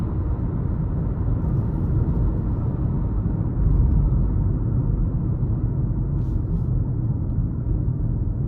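A 2023 Nissan Altima S accelerates on a test drive, its steady cabin engine rumble and road drone continuous and fairly loud with no talk.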